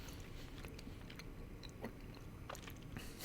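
Someone chewing strawberry candy close to a very sensitive microphone, with soft irregular crunchy bites and mouth sounds over a low background hum.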